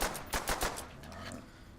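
Rapid machine gun bursts from the World at War zombies game, on the Verruckt map, crackle in a quick volley of sharp shots, then fade into quieter game ambience.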